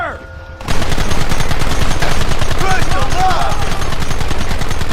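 Gunfire in Red Dead Redemption erupts after a brief quiet moment into a loud, dense barrage of rapid overlapping shots, with shouting voices mixed in over the sustained firefight.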